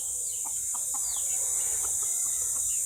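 Chickens cluck in a series of short, repeated calls at moderate distance over a steady background hiss, with no voices.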